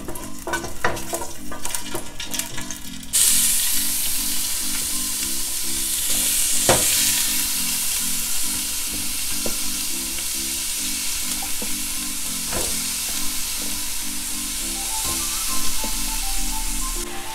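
Garlic cloves frying in oil in a skillet, a continuous close sizzle with repeated scraping and clinking as a utensil stirs the pan, no talking.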